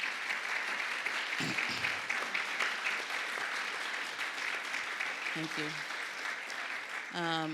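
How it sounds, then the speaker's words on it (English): Sustained audience applause for the artists at a Lincoln Theatre conversation series on Columbus' cultural Harlem, a dense steady roar with a brief spoken thanks over it. "If you could stand and have another round of applause for you"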